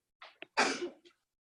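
A single sharp sneeze with a quick preceding inhale, close and fairly loud, then a brief trailing breath in a quiet room.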